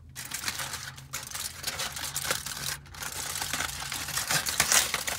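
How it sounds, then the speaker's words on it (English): Wrapping being pulled off a warm Sam's Club pizza pretzel, a close, continuous crinkle and rustle of paper with small crackling bursts and no talk. "Just unwrap this"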